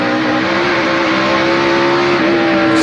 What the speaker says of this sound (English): Some of that engine jump as the car breaks traction.